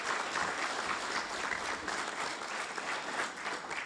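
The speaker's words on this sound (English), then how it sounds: "And one more time, a round of applause for all three of our engineers promoted." Audience applause for three promoted fire engineers at a fire department awards ceremony, a steady, moderately distant wash of many hands clapping continuously with no talk.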